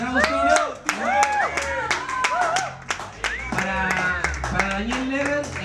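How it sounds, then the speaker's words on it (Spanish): Clapping from a concert audience, sharp hand claps in a steady patter behind a strongly harmonic voice or music that runs throughout. "vamos a arrancar con un aplauso"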